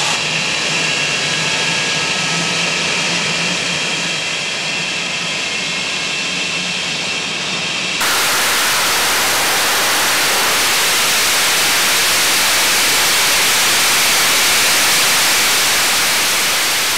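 A jet engine runs on the ground, a loud steady roar with a whining tone that abruptly turns into a broader, more intense rushing blast as reheat engages, close with no voices.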